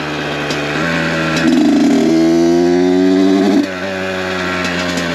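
A 1982 CR supermoto two-stroke dirt bike engine with a rich fuel mix runs close and loud, its buzzing drone rising in pitch mid-clip as it revs, then dropping back.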